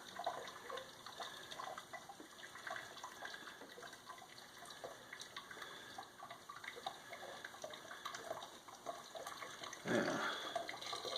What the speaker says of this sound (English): So then I'm going to take my hot water. We'll pour it in the funnel a little bit here.